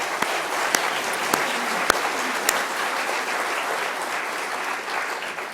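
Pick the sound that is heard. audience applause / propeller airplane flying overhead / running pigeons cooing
audience applause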